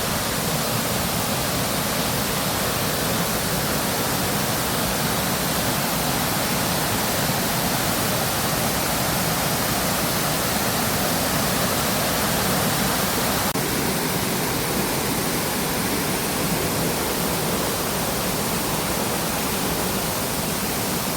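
Tamboli waterfall near Banda in the Konkan forests of Sawantwadi taluka pours down with a loud, unbroken roar of rushing water that stays steady and close throughout, with no voices.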